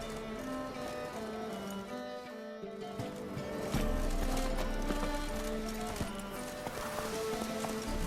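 A horse in The Witcher 3 trots along with a steady clip-clop of hooves, moderately close and continuous, over ambient game sound and music.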